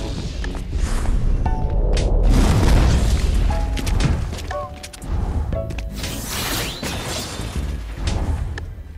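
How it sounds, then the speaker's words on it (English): A gas station in Fortnite collapses under a force power, with loud booming crashes, shattering and crumbling debris rolling on for several seconds, then scattered game effects and pings as it settles. "I just destroyed the entire gas station by using the force"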